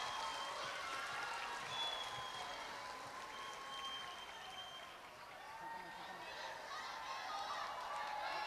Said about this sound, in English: Everyone, let's give them a big round of applause.